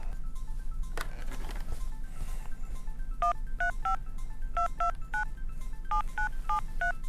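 Touch-tone telephone dialing to reach a student's home: a rapid series of DTMF keypad beeps in several quick bursts, clear and close, over a low steady background hum.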